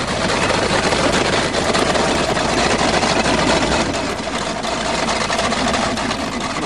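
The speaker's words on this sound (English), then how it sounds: "And the fan is hitting the shroud." Chevy 305 V8 with a four-barrel carburetor idling on a cold snowy farm start, its cooling fan hitting the shroud; a steady, loud, rough running drone with a continuous rattling clatter and no talk.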